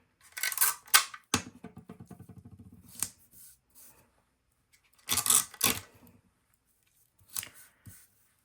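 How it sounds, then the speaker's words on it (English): Sewing scissors cut through a paper bodice pattern with princess seams, several crisp snipping bursts with a rapid ticking run of blade clicks, close and fairly quiet, separated by short silences. "I'll take my scissors and remove the extra"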